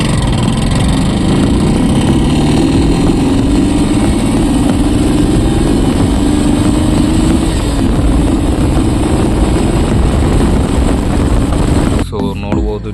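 An 18-year-old motorcycle revs hard from a standstill, its engine note climbing steadily through the gears for about twelve seconds, loud and close, before cutting off abruptly near the end.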